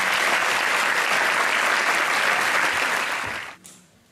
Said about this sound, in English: I think they deserve an extra round of applause because that was very good